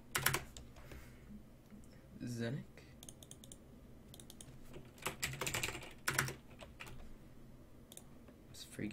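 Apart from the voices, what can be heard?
typing on a computer keyboard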